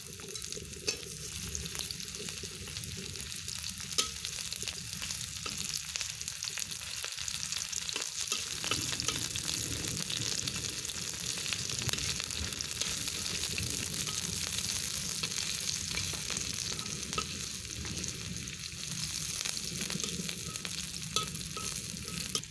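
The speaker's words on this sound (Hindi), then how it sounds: "तेल तातला पियाज दबा, बड़ साइज पियाज काटी रखे ताकू दबा।" Large-cut onions frying in hot oil in a pan, a continuous loud sizzle with occasional stirring scrapes, steady and close, with no voices.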